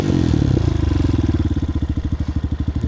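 A Honda Hawk 250 motorcycle fitted with an aftermarket exhaust runs nearby, a loud low throbbing engine whose pulses slow from a fast rev into a steady, evenly spaced idle-like beat, heard alone.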